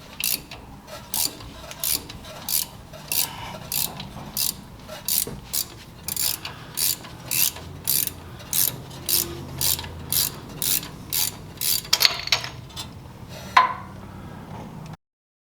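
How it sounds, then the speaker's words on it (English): Ratchet tightening a bolt on a puller to draw out a Toyota needle bearing, a steady series of sharp, evenly spaced clicks close by, ending with a couple of louder clunks. "when you tighten this bolt, it pulls the needle bearing out"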